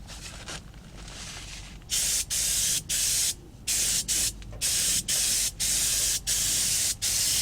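Spray paint hisses in a series of about eight steady bursts, each roughly half a second long with short gaps between them, as a coat goes onto a guitar body in a home build.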